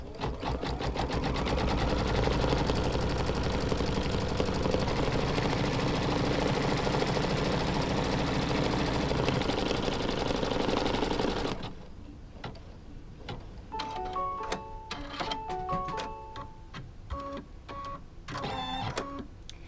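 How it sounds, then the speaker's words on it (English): A sewing machine stitches quilt block fabric in a steady, loud, continuous rapid whir for about eleven seconds, then stops, leaving quieter handling noises and faint tonal sounds in the background. "put your foot down, and stitch your color"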